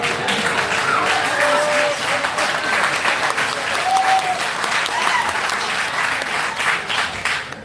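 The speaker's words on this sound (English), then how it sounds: "I got applause on the way up." Steady applause from an audience at a city council meeting on a proposed moratorium, sustained and fairly loud throughout, with faint voices mixed in.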